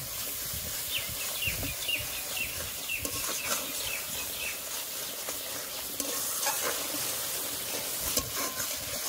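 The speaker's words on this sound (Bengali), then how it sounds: "দিয়ে দেবো জিরের গুঁড়ো এক চামচ, এক চামচের কম ধনের গুঁড়ো। এবার ভালো করে কষে নেব।" Cumin and coriander powder masala fries with soybeans in a pan, a constant sizzle with frequent scraping and stirring strokes, heard close with no talking.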